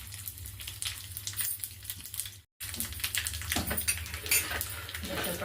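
Curry leaves, dried chillies and crushed ginger tempering in hot oil in a pan with mustard seeds, a busy crackling sizzle with a clink of utensils and a brief cut of silence midway.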